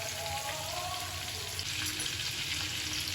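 Chicken pieces frying in oil with masala for a roasted-ground chicken gravy, a steady dense sizzle and crackle close up, continuous throughout without talking.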